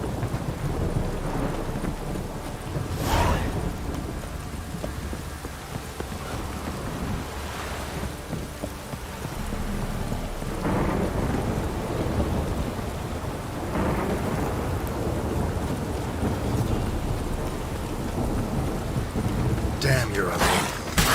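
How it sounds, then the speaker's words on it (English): Heavy rain in a video game pours steadily throughout, with low rolls of thunder swelling and fading several times beneath the constant downpour. "This downpour's a bastard, it is."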